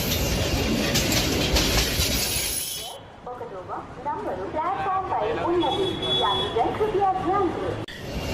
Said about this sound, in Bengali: প্ল্যাটফর্মে একটু অপেক্ষা করতেই ট্রেন চলে আসলো স্টেশনে